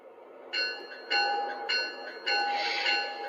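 An Acela train's bell in a train simulator game rings in a steady series of bright metallic clangs, each strike sustaining and overlapping the next, clear and close.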